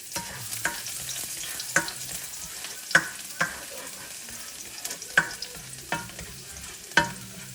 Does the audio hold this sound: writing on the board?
no